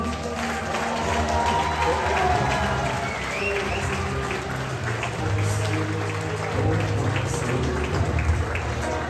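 An audience at a fire brigade ball applauds in a hall, with a sustained patter of many hands clapping at steady volume and voices murmuring underneath.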